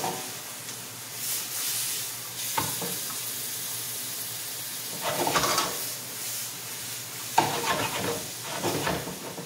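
Chinese cabbage and fish sizzle in a frying pan while being stir-fried, with steady frying hiss and several louder bursts of stirring and tossing close by.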